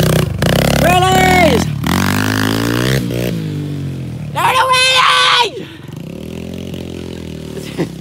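A motorcycle revs in a parking lot with two sharp throttle blips, one early and one midway, under excited voices talking nearby.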